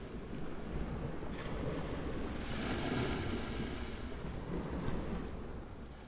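Waves wash steadily onto a Thai beach near Hua Hin, a broad continuous surf roar swelling and easing, with wind buffeting the microphone and no voices.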